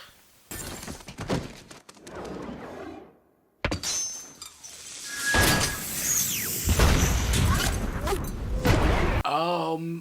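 Pumpkin bomb blasts from the film Spider-Man (2002), with loud crashing booms, shattering debris and heavy thuds over dramatic score in a chaotic, rising sequence.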